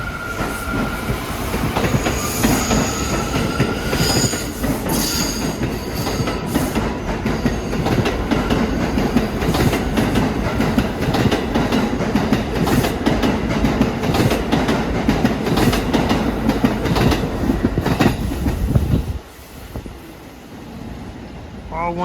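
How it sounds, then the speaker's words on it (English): An A train subway car rolls toward Far Rockaway past Howard Beach, Queens, with a loud, continuous roar and rhythmic clacking of wheels on rails, plus faint squeals, before easing off near the end. "As our A train is heading for Far Rockaway."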